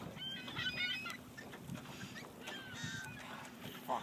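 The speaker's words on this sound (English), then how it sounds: "I don't want an angry seagull here." An angry seagull that has been caught while fishing cries in repeated harsh honking calls, fairly close, over wind and outdoor background noise.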